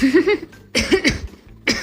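A woman coughs in three short bursts, each a harsh, close cough followed by a brief gap, alone with no talking.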